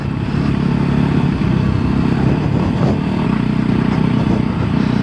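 A Voge 300 Rally motorcycle engine drones steadily up close while riding on gravel and sand, with a constant rough rumble and faint clattering underneath, no voices.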